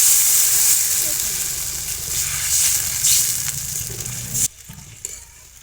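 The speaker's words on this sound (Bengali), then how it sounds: "বড়াগুলো ভাজা হয়ে গেছে আমি এবার জল দিয়ে দেবো" Water poured into a pan of fried fritters sets off a loud, bright sizzle with stirring scrapes, fading gradually before cutting off abruptly near the end, leaving only faint clinks.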